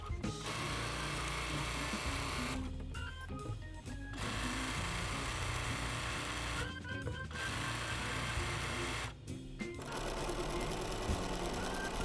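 A sewing machine stitches the hem of a men's shirt, running loud and close in long continuous bursts broken by three short pauses.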